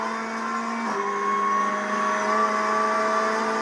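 Onboard sound of a race car testing at Brands Hatch Indy, its engine a steady, loud, close whine with sustained tones that drop in pitch about a second in, as if shifting or lifting off, then hold on.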